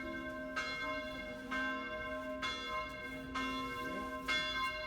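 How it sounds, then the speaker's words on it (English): Bells of a local church near Salzburg, built in 1644, tolling in slow, regular strikes with long ringing overtones, heard from a moderate distance in open air. "Bells were ringing in the local church built in 1644."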